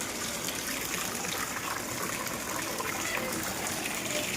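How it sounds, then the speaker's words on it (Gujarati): Heavy rain pours in Botad, with runoff flooding a home courtyard where a car is parked; a dense, steady wash of rain and rushing water fills the whole stretch without a break. "બહાર તો વરસાદ છે"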